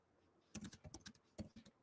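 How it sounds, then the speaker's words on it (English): Typing on a computer keyboard during a live sports talk stream, a short burst of close, crisp key clicks in two quick clusters after a moment of quiet. "I'm just typing"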